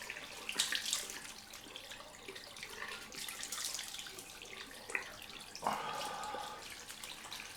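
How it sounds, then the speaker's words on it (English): A warm water rinse runs over a razor, shaving brush and bowl at a sink, a steady close splash with a few clinks and drips standing out, no voices. "All I've done is I've cleaned up my razor and brush and bowl and so this is a warm rinse."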